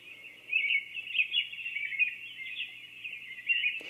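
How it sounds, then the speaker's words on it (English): A sleep sound machine plays a recorded bird track with a steady run of high, bright chirps and tweets. The chirping is fairly clear and goes on without a break, with no voices. "That's a really nice bird sound."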